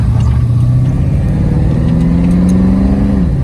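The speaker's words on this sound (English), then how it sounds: "Exhaust sounds great." Loud, close exhaust of a 1931 Plymouth P4 street rod under steady acceleration, its engine tone climbing in pitch and dropping at a gear change before rising again.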